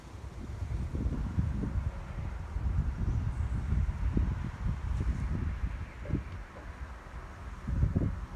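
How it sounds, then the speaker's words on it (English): Steady wind buffets and rumbles against the microphone in low gusts, with a soft rustle underneath and no voices. "it's still a bit windy."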